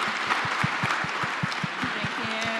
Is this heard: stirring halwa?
no